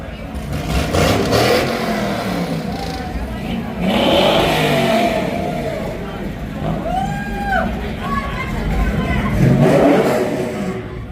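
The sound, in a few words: truck engine revving during burnout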